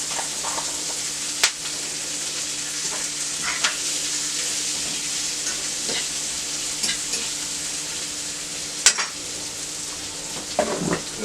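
Onions, hamburger meat and mushrooms sizzle steadily in a pan, with a constant frying hiss broken by a few sharp utensil clacks against the pan.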